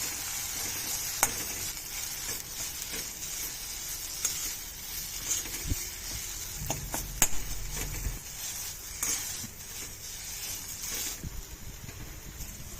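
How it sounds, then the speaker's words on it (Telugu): Gram flour is stirred and fried in a pan over a low flame for a masala paratha filling, with steady soft sizzling and occasional scraping of the spoon, close by and without speech. "దీన్ని కలుపుతూ ఫ్రై చేయాలి"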